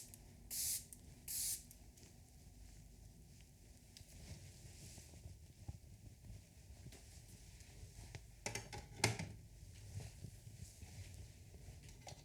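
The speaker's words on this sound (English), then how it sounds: "we'll spray this one more time" A cosmetic spray used during a makeup and hair session: two short, soft hissing bursts near the start, then quiet rustling and handling noises at close range.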